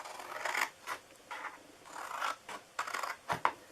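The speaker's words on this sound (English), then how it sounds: "And then we are going to cut this side" Scissors snip through the cardboard sides of a handmade cookie box in a series of about eight short, crisp cuts, close by and fairly quiet, with brief pauses between strokes and no talking.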